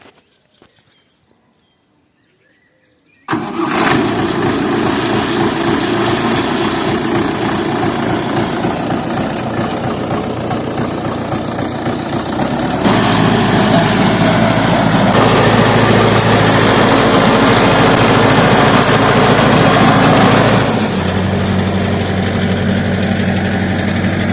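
A tractor engine starts up and runs steadily with a new DTZ rotary tiller attached, working virgin ground. It is a loud, continuous droning rumble that grows heavier partway through, with no talk.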